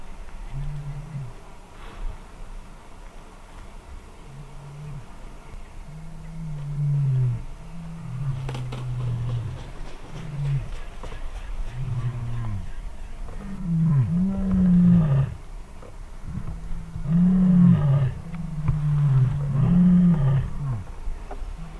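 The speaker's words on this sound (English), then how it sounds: "I can just hear lions calling and calling and calling, so they should be on their way" Lions call at sunset around an elephant carcass in the wild, giving repeated deep, moaning roars that build into a series of grunting calls, fairly close and loud.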